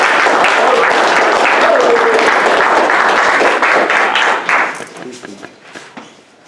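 An audience at a Toastmasters speech breaks into loud, full applause to welcome the speaker. The dense clapping holds strong for about four seconds, then thins into scattered claps and fades out.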